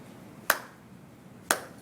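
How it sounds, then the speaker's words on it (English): Two sharp, close claps land exactly one second apart, keeping time with a metronome at 54 beats per minute, each a crisp isolated hit over faint room noise. "Clapping in time with a metronome at 54 beats per minute"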